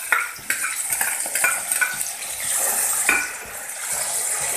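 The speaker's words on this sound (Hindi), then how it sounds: "तेल हमारा गरम हो गया है, इसमें हम जीरा डालेंगे, राई डालेंगे और जो हमने मेथी भिगोई थी वो डालेंगे" Cumin, mustard seeds and soaked fenugreek hit hot oil in a pan, crackling and sizzling steadily with sharp little pops and a few scrapes of a spoon against the metal, close and clear with no talking.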